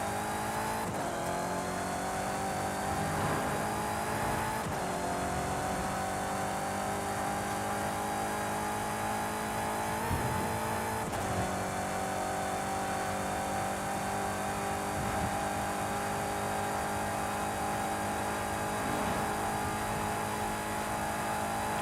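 A 1989 BMW 325i engine in Forza Horizon 5 drones steadily while climbing a hill, its pitch rising through each gear and dropping briefly at gear changes, loud and continuous with no voices.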